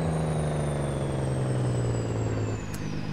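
A heavy truck in American Truck Simulator rumbles steadily with a deep, continuous engine-brake drone that slowly drops in pitch, loud and close, with a thin whine above it and a brief hiss near the end.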